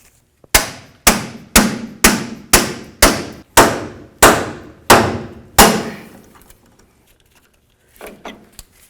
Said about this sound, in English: Now we'll grab our pickle fork and our hammer.